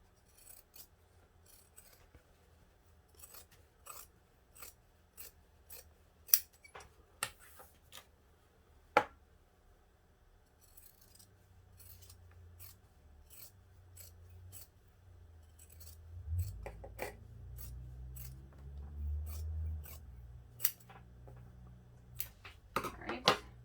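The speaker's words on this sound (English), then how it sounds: "we're going to trim these seam allowances down to about 1/4 inch" Scissors trimming fabric seam allowances on a sewn backpack, a string of crisp, close snips at irregular intervals with soft rustling of the material between cuts.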